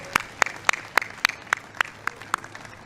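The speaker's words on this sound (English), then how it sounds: "How about a round of applause for our birthday president?" Applause on the White House lawn at a ceremony welcoming college football national champions: sharp, evenly spaced claps in a steady rhythm, fairly close and distinct rather than a dense roar.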